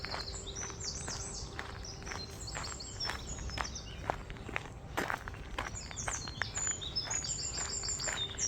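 Birds chirp and sing along a canal, small calls scattered through the clip over a steady outdoor background with close footsteps walking throughout.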